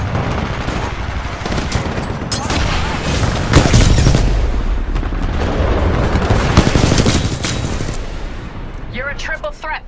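Sustained automatic gunfire and explosions in the multiplayer shooter Titanfall 2, dense and loud throughout with bursts and booms, game voice lines faintly mixed in.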